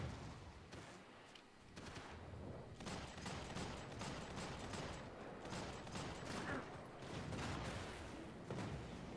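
Max Payne 3 gunfire, with shots and bursts coming in irregular waves, stays quiet but sustained throughout, with possible muffled game voices mixed in.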